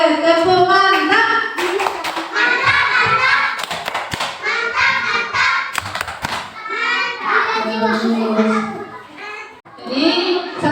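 A primary school class doing the tepuk mantap rhythmic clap, with children clapping and thumping in a pattern while chanting along loudly in unison, their voices running over the claps throughout.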